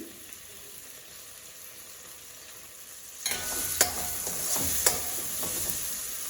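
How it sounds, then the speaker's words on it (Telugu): Tomato pieces drop into hot oil in a pan and start a sudden, steady sizzle, with a few sharp spatters and stirring scrapes over the frying hiss. "ఫస్ట్ ఆయిల్ వేసేసుకున్న తర్వాత టొమాటో వేసేసాను."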